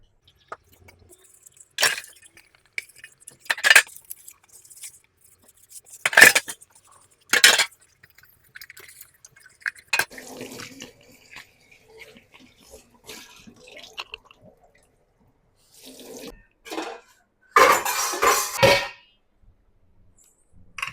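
Dishes and pots are washed by hand at a kitchen sink, with scattered clangs and clinks of metal and crockery, brief bursts of running water and quiet pauses between, heard up close.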